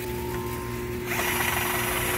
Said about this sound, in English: we're using our Works Power Share drill